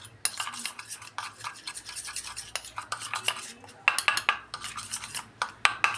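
A spoon clinks and scrapes around a small bowl as turmeric is stirred into a homemade face pack, with quick continuous rhythmic strokes, close and fairly loud, no talking.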